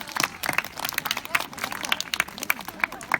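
A zoo audience at a cheetah run in Al Ain Zoo claps fairly faintly, with scattered hand claps and crowd murmur under a guide's voice.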